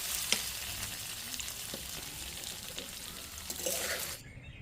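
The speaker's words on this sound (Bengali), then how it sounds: "কড়াইয়ে তেল দিয়ে এবার কেটে রাখা ডিমগুলোকে এবার ভেজে" Halved boiled eggs fry in hot oil in a wok, producing a steady close sizzle with light crackles and a few spatula taps before the hiss cuts off abruptly near the end.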